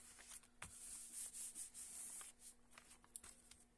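An ink pad is rubbed along the edges of cardstock in a series of quick, faint scratchy strokes, a soft rhythmic rubbing with short pauses between passes.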